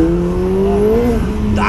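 A Lamborghini Huracan accelerates hard, its engine note climbing steadily and loudly close by before a quick gear change near the end, with a voice faintly underneath.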